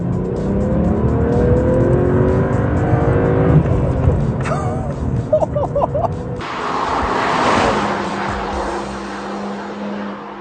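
A BMW 1 Series M Coupe engine and exhaust, a loud throaty note rising and falling as it revs and accelerates, then a rushing pass with wind noise.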